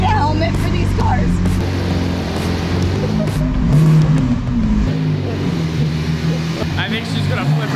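A Lamborghini pulls away with a close, loud engine rumble that swells and revs as it drives off, a voice speaking briefly over the noise.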